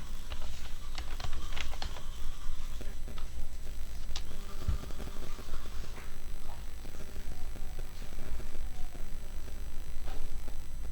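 Computer keyboard typing at a desk, quick irregular clicks and taps spread through the stretch over faint background noise.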